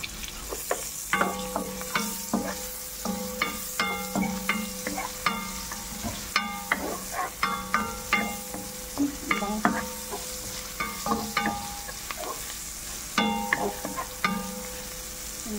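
Onion frying in butter and a little olive oil, a steady sizzle broken by regular scraping and clinking strokes of a utensil against the pan, close and fairly loud with no voices.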